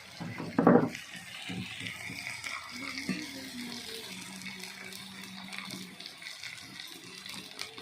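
Water pours briefly and splashes into a pot, followed by a low gurgling wash and soft kitchen clatter, with no voices.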